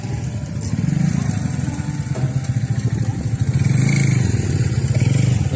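A 400cc motorcycle engine runs steadily nearby with a low, pulsing throb that swells louder toward the end, under some faint voices.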